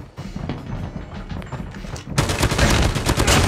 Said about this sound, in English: They follow the sound of the bullets.